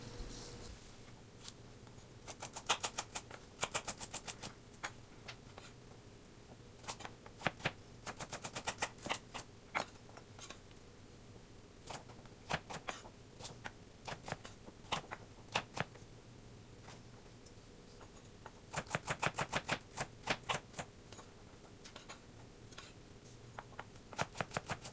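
Vegetables such as carrots and peppers are chopped on a cutting board with a knife, giving bursts of rapid sharp taps in quick rhythmic clusters separated by pauses, close and fairly crisp.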